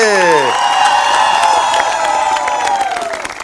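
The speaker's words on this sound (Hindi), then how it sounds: "तो सबसे पहले तालियां हो जाएं मुल्तान और बहावलपुर के लिए।" A TV studio audience applauds and cheers loudly, dense clapping and shouts filling the room after a tonal sting, fading slightly toward the end.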